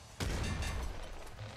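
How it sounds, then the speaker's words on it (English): Grenade launcher explosions in the video game Nuclear Throne, heard as a loud burst of booming game blasts with a dense low rumble that holds steady for over a second. "Explosions. I'm gonna use this explosive thing."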